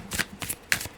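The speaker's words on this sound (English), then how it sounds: "That is a good set of shuffling cards right there" Meow Wolf Cowboix Hevvven tarot deck being shuffled by hand, three quick riffling bursts of cards in about a second, close and crisp with no talking.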